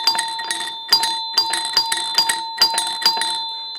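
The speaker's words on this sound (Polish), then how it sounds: "to dzwonek oczywiście działa" A solenoid doorbell mounted horizontally rings in bright metallic dings as voltage is applied to its coil, the core striking about eight times in an uneven rhythm, loud and close with no talk.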